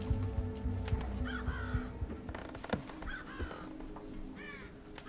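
A crow caws repeatedly in the stealth game Thief, several harsh rasping calls at mid distance over a steady ambient game background with occasional clattering sounds.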